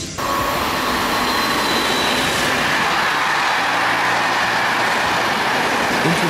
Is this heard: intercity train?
yes